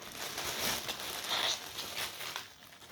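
A plastic bag crinkles and rustles up close while a boxed model car of a Mercedes-Benz S65 AMG W220 is unwrapped, continuous crackling handling noise that fades slightly at the end.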